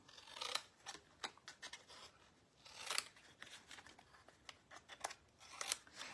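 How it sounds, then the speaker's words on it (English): Scissors trim excess scrap paper from a craft piece, giving a series of quiet, crisp snips and rustles at irregular intervals, close and soft with no talking. "we're just going to come around and trim off the excess"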